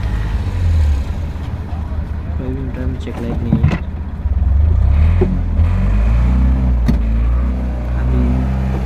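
A Tata Ace Gold mini truck engine idles after starting, a steady low rumble close by that runs throughout while someone talks over it.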